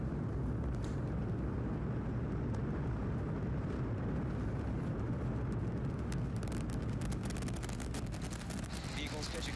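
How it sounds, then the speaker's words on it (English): A SpaceX Starship Super Heavy rocket lifts off with a continuous, deep, crackling roar that stays loud and dense throughout, with faint voices beneath it. "We have liftoff. Go Super Heavy. Go Starship."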